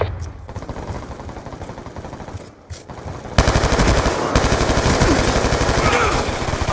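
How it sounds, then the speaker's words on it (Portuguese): A Death Machine minigun in Call of Duty Black Ops 2 spins up and then fires a loud, continuous rapid stream of shots, preceded by a few seconds of battlefield gunfire and a brief lull. "Máquina de morte aliada girando."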